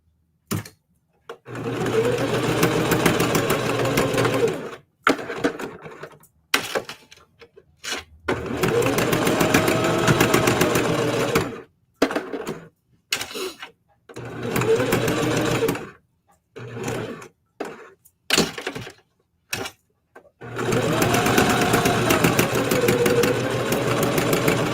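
A Singer HD sewing machine stitching scrap-fabric letters runs in loud, steady whirring bursts of a few seconds each, separated by short pauses while the fabric is repositioned, with no talking.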